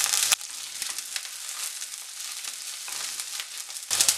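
Ginger, garlic and green chillies sizzle in hot oil for a Kerala-style sardine curry, a steady close crackle of frying that carries on alone from start to finish.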